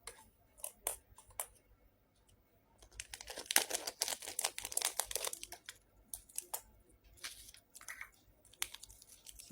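Vacuum-sealed plastic fertilizer package being opened, quiet irregular crinkling and crackling bursts close to the microphone, with brief pauses in between and no speech.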